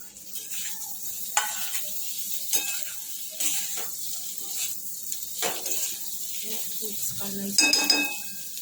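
Cut potatoes and sweet potatoes sizzle in a hot pan while a spoon stirs and scrapes them in irregular clinks and scrapes, close and fairly quiet, with no talking.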